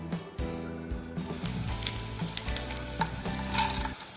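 Small onions dropped into heated oil in a pan, a close crackling sizzle that builds after a brief quieter start, with music playing underneath throughout.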